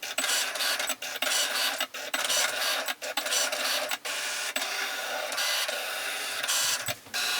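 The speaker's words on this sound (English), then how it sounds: "So now the machine is going to cut out my vinyl decals for my black and white vinyl bookmark." Electronic cutting machine slicing vinyl decals for a black and white bookmark, a steady mechanical whir with repeated brief dropouts and stops as the blade carriage moves, fairly close and with no talking.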